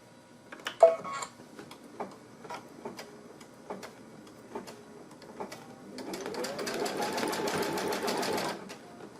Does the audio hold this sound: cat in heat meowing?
no